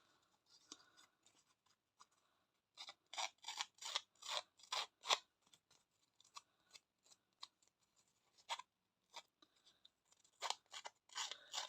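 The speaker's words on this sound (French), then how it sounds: "je trouve que les ciseaux fonctionnent mieux que le distresseur" Scissors scrape and snip along paper edges to distress them for a vintage scrapbooking pouch. Irregular bursts of crisp rasping cuts come close, with short quiet pauses between.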